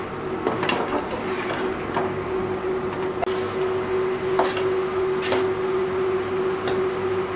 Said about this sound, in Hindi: इन्हें 1 से 2 मिनट फ्राई करेंगे